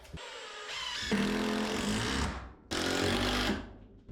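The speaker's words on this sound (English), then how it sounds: "I'm gonna drive a couple screws into the bottom just to secure it from kicking out" A power driver drives screws into the bottom of a fixture inside a 40-foot shipping container workshop, giving two loud sustained whirring runs separated by a short pause.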